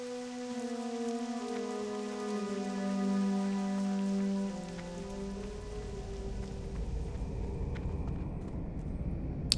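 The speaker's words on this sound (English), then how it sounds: "Ooh, it's raining here now." Steady rainfall patters on surfaces in the World of Warcraft Classic game world, with fading musical tones at first and a continuous wash of rain.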